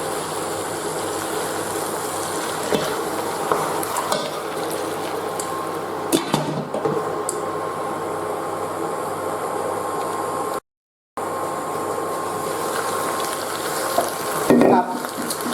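Turkey wings cook in a pot on a rice cooker, giving a steady broadband sizzle and bubbling with occasional stirring clinks, held at an even level throughout apart from one brief dropout near the end.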